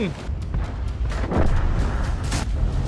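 Tank cannon fire in the World of Tanks video game strikes a teammate's vehicle, giving heavy booming shots and rumbling impacts against steady battlefield noise, while someone talks excitedly over it.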